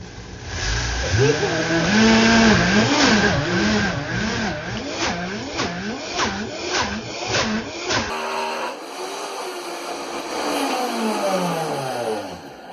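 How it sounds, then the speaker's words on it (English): A Vitamix blender grinds sunflower seeds into butter with a loud motor whine that rises and falls in pitch as it labors, then switches abruptly to a smoother, quieter descending tone near the end. "put our Vitamix wet container on top of the Vitamix, and then we will get that going"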